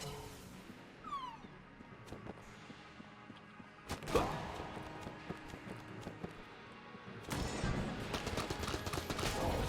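AK rifle fire in the video game Enter the Gungeon, with bursts of sharp rapid shots around the middle and again toward the end over quieter game sounds.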